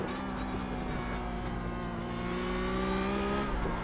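A Porsche Cup race car in iRacing at Oulton Park sings a steady high-revving engine note, close and continuous, with pitch climbing gradually as it accelerates, heard alone.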